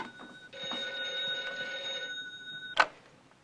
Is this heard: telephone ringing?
yes